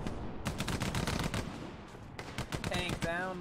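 Crossfire in the World War II shooter Hell Let Loose, with rapid bursts of machine-gun and rifle fire cracking in dense volleys from several directions, pausing briefly before resuming, with a distant voice faintly audible.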